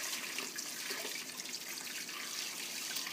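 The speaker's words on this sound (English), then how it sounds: "And now I'm just going to strain it to make sure that I get any little bones that might still be remaining and pieces of skin" Homemade chicken broth strained to catch small bones and bits of skin, a steady close liquid pour and trickle running continuously without pause.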